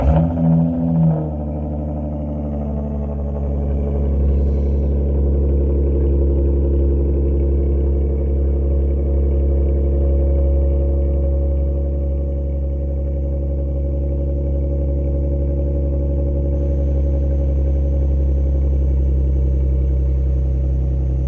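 A Dodge Journey with a sport tune cold-starts with a short cranking burst, then settles into a steady, deep, humming idle that carries on evenly and close by, with no clear revving.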